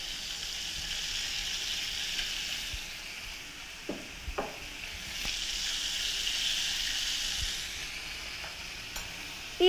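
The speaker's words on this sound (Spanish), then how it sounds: "aquí tengo filete de pechuga cortado en cuadritos, que lo voy a sellar y a dejar que se dore" Diced chicken breast fillet sears in a hot pan with a steady, fairly quiet sizzle and a few soft clicks and stirring knocks, with no talking.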